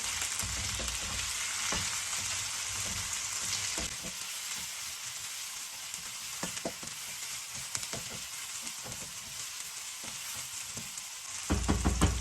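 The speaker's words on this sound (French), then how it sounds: "On remue." Vegetables and seafood fry in a wok, starting with peppers: a steady hiss with scattered clinks and scrapes of stirring, louder at first, then softer, with a loud burst of sizzling near the end and no talking.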